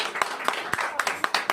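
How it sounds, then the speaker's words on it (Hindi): Clapping from a church congregation praising the Lord during a Hindi Christian sermon, with scattered sharp claps in an irregular rhythm over a short burst, fairly faint and mixed with crowd noise. "आइए हम प्रभु के लिए जोरदार ताली बजाएं।"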